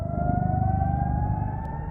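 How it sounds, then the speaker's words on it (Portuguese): Air raid sirens sound in northern Israel, a sustained rising wail heard at a distance, steady and moderately loud without speech. "Na região norte do país, as sirenes soaram nesta sexta-feira."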